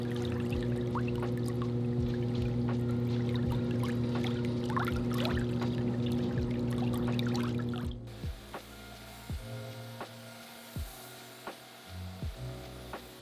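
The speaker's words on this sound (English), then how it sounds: "We're gonna flush it out" Water pours steadily and loudly through a soaked wool rug in a rug cleaning plant for about eight seconds, then stops, leaving quieter drips, knocks and handling sounds.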